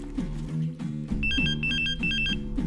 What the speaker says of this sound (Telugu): ఒక్క నిమిషం ఆగండి రా, ఫోన్ వస్తుంది.